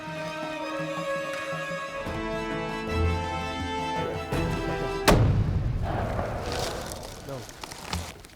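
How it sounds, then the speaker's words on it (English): A single loud rifle shot fired at a stag about 300 yards away on a Patagonia hunt, a sharp boom midway that rolls off into a long echoing tail over outdoor ambience. "I just decided to take the shot."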